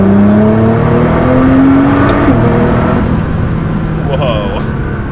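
A turbocharged car accelerates hard in third gear on its high-boost map, engine tone rising steadily under load, loud and close from inside the cabin, with a voice speaking over it.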